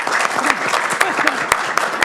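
Audience at the Yale School of Management applauding to welcome Francesco Starace, steady dense clapping with a few sharp individual claps standing out, loud and close.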